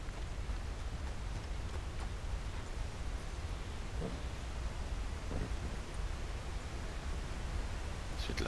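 Steady broadband rushing of water from a nearby waterfall, a constant wash of noise like heavy rain, with a few faint rustles and taps over it.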